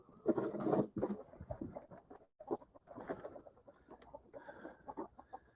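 Chickens and a rooster on a farm cluck and squawk close by in irregular bursts, with short pauses between calls.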